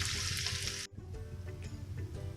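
Onion sautéing in a pan for achari gobhi, a loud, steady hiss of frying that cuts off abruptly, then quieter crackling and stirring clicks continuing.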